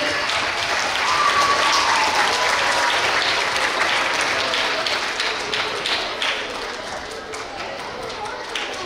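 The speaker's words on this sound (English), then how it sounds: "let's give a round of applause for our fifth graders" Applause for fifth graders at a school assembly: a loud, sustained burst of many people clapping in a large room, gradually easing off toward the end.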